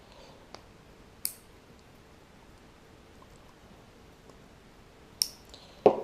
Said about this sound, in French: j'utilise des cotons-tiges. Donc je coupe les deux extrémités